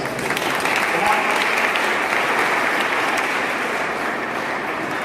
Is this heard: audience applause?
yes